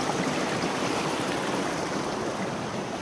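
River flowing steadily, a constant loud rushing and gurgling of water with no voices, unbroken from start to finish.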